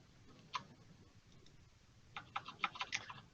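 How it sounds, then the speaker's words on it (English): Faint computer keyboard typing, a short isolated keystroke followed by a quick cluster of crisp clicks a moment later, heard in a quiet room. "your keyboard is super loud."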